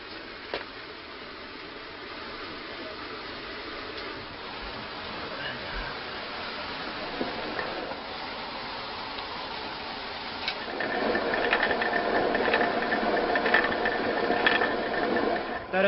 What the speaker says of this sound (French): il vient ici pour moudre son grain dans ce moulin à eau